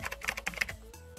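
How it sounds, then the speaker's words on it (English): Rapid keystrokes on a computer keyboard as a command is typed into a command prompt, a quick burst of close, crisp clicks with a few short pauses, no voices. "Just type in your command prompt."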